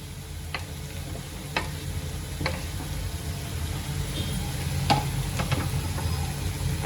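Green chillies frying in oil with onions for paneer bhurji, a steady close sizzle underneath sharp intermittent clicks of a spoon against the pan, several scattered strokes, no speech.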